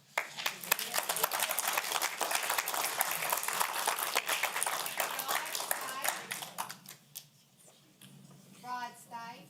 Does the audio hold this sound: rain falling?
no